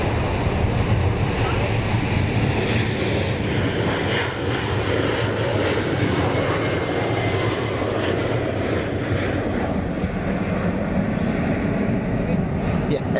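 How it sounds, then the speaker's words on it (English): A United airliner departs Zurich Kloten Airport, its jet engines roaring loud, broad and steady throughout, close by with a continuous rushing wash. "Meanwhile, United on the departure."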